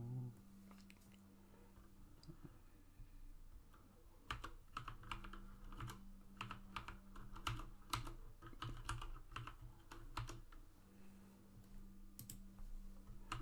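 A password being typed on a computer keyboard, with close, quiet key clicks in quick irregular bursts separated by brief pauses, over a faint low background hum.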